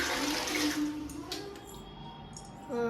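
Water runs steadily from a household tap into a bucket at home, a continuous hiss and splash close by without talk.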